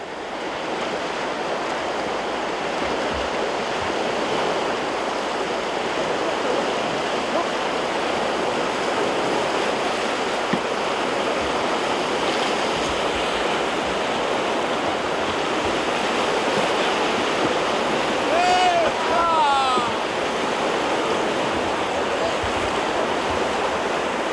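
River rapids rush steadily around a canoe on a trip across Scandinavia, a continuous broadband roar of churning water close by, with faint bird calls and wind noise toward the end.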